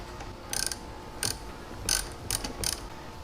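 A 10mm socket ratchet loosening the negative terminal on a car battery clicks in five short, close bursts of rapid pawl ticks, separated by brief pauses.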